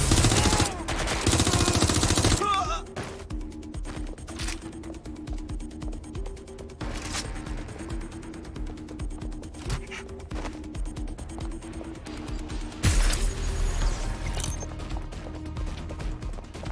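Gunfire from a firefight in the video game Watch Dogs Legion, loud bursts of shots at the start and again near the end, with clicking, ratcheting mechanical sounds and game noise in between.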